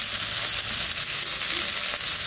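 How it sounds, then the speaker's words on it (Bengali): Cabbage and potato fry in hot oil with a steady, dense sizzle that fills the whole stretch, close and loud, with faint stirring scrapes and no voices. "তেল মধ্যে ছেড়ে দেবো বাঁধাকপি আর আলু"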